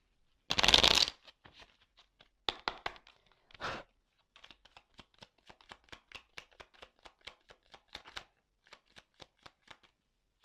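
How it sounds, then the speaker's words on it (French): Tarot cards being shuffled and handled at close range: one loud riffle, then a few short bursts and a long run of small, quick card snaps and flicks, with no talking. "Allez, je prends encore quelques cartes."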